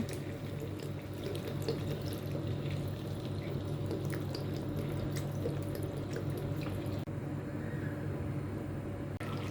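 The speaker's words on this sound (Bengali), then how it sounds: "এই পর্যায়ে আমি এখানে দুধ অ্যাড করে দিব" A steady stream of milk pours and splashes into a pot, continuous and fairly close, with a faint clink near the end.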